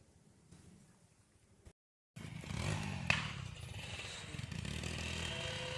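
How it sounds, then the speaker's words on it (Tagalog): Motorcycle engine running with a leaking exhaust, its loose header bolts letting it pop. A brief quieter stretch is followed by a short silence, then a loud, steady, rough engine rumble with a sharp crack near the middle. "Pumuputok yung tambutso na na."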